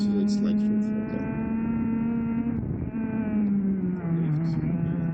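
Race car engine held at full throttle in a racing video game, a steady loud drone with a strong harmonic whine that dips briefly and then settles slightly lower, while a voice talks over it.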